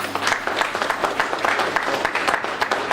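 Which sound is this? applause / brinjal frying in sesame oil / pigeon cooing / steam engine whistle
applause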